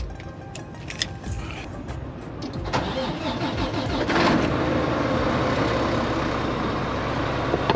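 A Volvo VNL truck's D13 diesel engine cranks briefly and catches on the first try, settling into a loud, steady idle rumble that fills the rest of the clip, heard close by.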